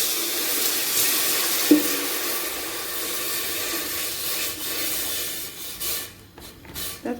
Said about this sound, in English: So the next thing I go do now to put water for the pot.